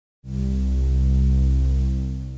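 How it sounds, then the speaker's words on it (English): A thick, buzzing synth tone, the whole synthesizer patch overdriven into an analog low-pass filter, with gritty distortion and rich overtones, swells in and holds steady, loud and alone. "we're overdriving our entire synthesizer patch into the filter, giving it some nice distortion"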